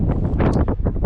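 Strong wind buffets the microphone outdoors in a burst of low rumbling gusts, loud and close, with no voices.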